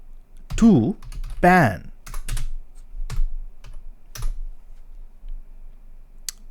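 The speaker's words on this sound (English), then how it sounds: "Let me type that. Sudo apt install Fail2Ban." Typing on a computer keyboard while entering a software install command for a Raspberry Pi 5, a few sparse bursts of close, crisp key clicks with someone speaking briefly over the start.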